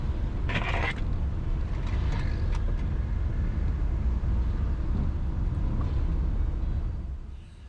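Light road traffic passes around a small multicab on a drive between rain showers, a steady low rumble of engines and tires with a brief scrape near the start, fading slightly at the end.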